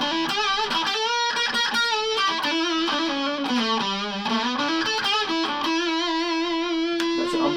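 A modded Epiphone Les Paul Special II with a humbucker plays distorted, a gritty, sustained melodic line with bent notes and buzzing overtones, loud and continuous throughout.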